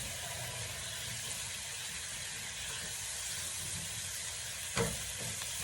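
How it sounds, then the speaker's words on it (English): Roasted red chilies drop into a hot pan of Mongolian beef, a steady loud sizzle and hiss that fills the clip, with one brief clink partway through. "now I'll add some roasted red chilies, like 4, according to your spice level."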